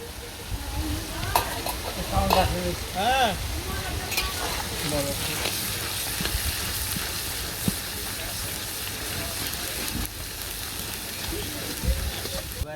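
A fish dish cooks in a pan in a village kitchen, with a continuous loud sizzle and repeated stirring scrapes, while voices talk over it at times.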